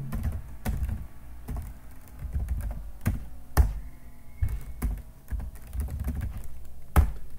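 Someone types on a computer keyboard at close range, a busy run of clicking keystrokes with a few louder thumps from heavier presses, with no speech.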